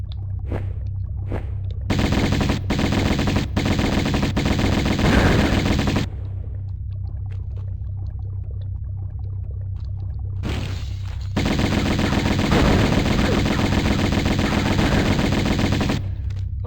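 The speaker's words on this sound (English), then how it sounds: "Come on, shoot it!" Bursts of rapid automatic gunfire ring out in Tomb Raider 1 Remastered in the Atlantis level, two long sustained volleys separated by scattered single shots and a quieter pause.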